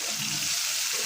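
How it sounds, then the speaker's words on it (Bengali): Bean seeds fry with kela dried fish in a hot pan, giving a continuous close hiss and sizzle with no pauses. "সিমের বিচি, শুকটি মাছ দিয়ে ভাজবো।"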